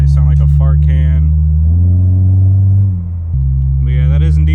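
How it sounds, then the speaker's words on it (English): A 2004 Acura TSX four-cylinder with a loud new aftermarket exhaust gives a deep, steady drone that shifts pitch as it revs, with a brief dip, close and loud under a voice. "the exhaust is indeed way louder than it was. I do enjoy it, the deep sound."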